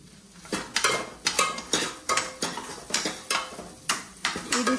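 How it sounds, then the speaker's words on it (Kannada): A spoon stirs chillies mixed with milk in a pan, making a regular series of loud scraping, clinking strokes about twice a second over a faint sizzle. "ನಾನು ಇದಕ್ಕೆ ಸ್ವಲ್ಪ ಹಾಲು ಹಾಕೊಂಡು ಮಿಕ್ಸ್ ಮಾಡ್ಕೊಳ್ತಾ ಇದ್ದೀನಿ"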